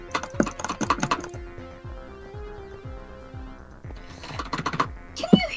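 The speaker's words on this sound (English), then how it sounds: "Can you hear my keyboard?" Computer keyboard typing during a Hypixel game: bursts of rapid close clicks and clacks at the start and end, with a steady hum and a quieter stretch between them.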